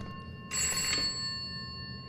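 Telephone ringing in the horror video game Bokkie: one sharp electronic ring burst starting abruptly, then fading over a quiet humming backdrop, heard alone without voices.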